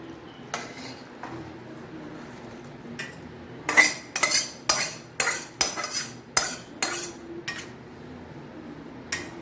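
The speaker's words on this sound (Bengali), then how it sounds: "মাছগুলোকে পুরো পোস্তটাই ঢেলে নেবো কড়াইতে" Rui fish in poppy seed paste stirred in a metal wok: about ten distinct, fairly loud metallic scrapes and clanks in a loose rhythm after a quiet start, with no talking.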